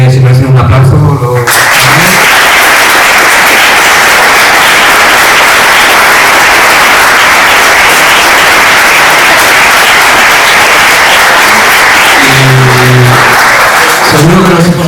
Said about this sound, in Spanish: Yo creo que si merece un aplauso.